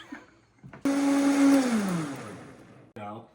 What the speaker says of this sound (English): To the blender.